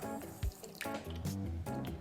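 Water is poured and dribbled onto chia seeds in a kitchen, giving a few short wet splashes and drips, close and fairly quiet.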